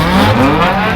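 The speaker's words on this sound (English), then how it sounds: "Some revving's going on here." A Subaru four-cylinder engine revs loudly and close at an outdoor car show, a sustained rising and falling engine roar filling the moment.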